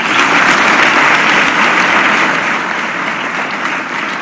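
Loud, sustained applause from a large audience fills an orientation ceremony at the Sant Shiromani Ravidas Global Skills Park in Bhopal, a dense steady roar of many hands that eases only slightly toward the end.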